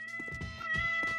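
A novelty cat revolver in the Counter-Strike 2 video game, firing with meow sounds instead of gunshots: several quick, clear cat meows in succession, loud and close, over a faint steady electronic hum.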